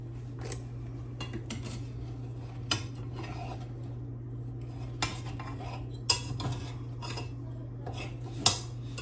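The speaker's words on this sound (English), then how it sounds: "Gonna cut the cornbread." A knife clinks and scrapes against a plate while cornbread is cut at a home supper, with sparse sharp taps and clatters over a low steady hum, close and fairly quiet.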